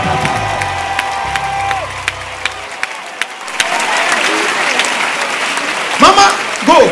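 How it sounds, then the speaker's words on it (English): Congregation at a church service clapping hands, sharp individual claps and steady crowd applause running underneath, with a voice speaking over it and a brief burst of talk near the end. "If you clap your hands"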